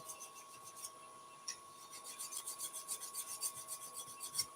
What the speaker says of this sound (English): I'm going to give it a good sharpen. So just a little diamond file.